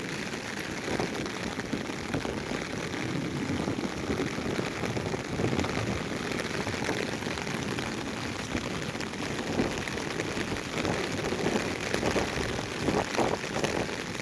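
Steady rain pours down in Sylhet beside a flooded mosque pond, a dense continuous hiss of drops hitting water and surfaces that holds even throughout, with no voices.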